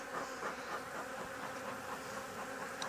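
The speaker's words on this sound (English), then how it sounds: "So the bees are all over me trying to collect as much honey as they can." Honey bees swarm around a beekeeper working an open hive, a steady dense buzzing that fills the air close by with no talk.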